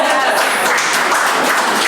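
An audience applauds a panel, a steady dense wash of clapping that stays loud and even through the short stretch.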